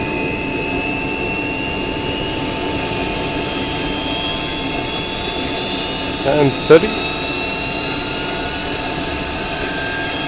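Inside the cockpit of a 1976 ex-Braniff Boeing 727, engine number two spools during start with a steady turbine whine and hum, and a voice speaks briefly over it.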